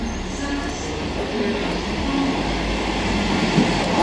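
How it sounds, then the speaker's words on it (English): GWR high-speed train pulling into Newport station, a steady loud rumble of wheels and engine with faint brake squeals, continuous and close, without clear talk over it. "Our train is here."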